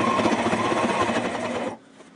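A sewing machine runs a straight line of stitches attaching a nametape to a patrol cap, a steady close whirring that stops abruptly near the end.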